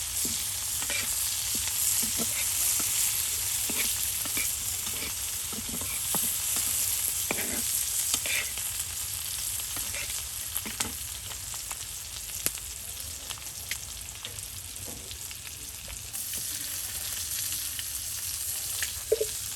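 Onion, garlic, egg and green chillies frying together in a pan, a steady loud sizzle running throughout, with frequent light scrapes and taps of a stirring utensil.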